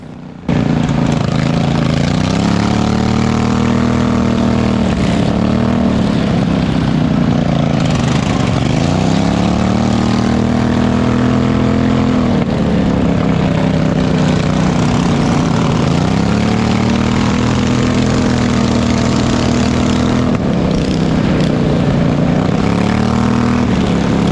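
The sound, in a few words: racing lawn mower engine at county fair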